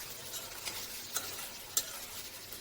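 Chopped tomato goes into a pan of frying baim fish curry, bringing a soft steady sizzle with a few light stirring clicks, close but faint, with no voices.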